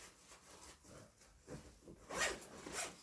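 A zipper on an Osprey Atmos AG 65-litre hiking backpack is pulled open in a few quick, rasping strokes, close and fairly quiet.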